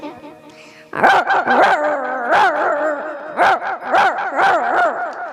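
A person on stage mimics dogs snarling and barking at each other in a fight, a rapid run of loud yips and growls, close and continuous.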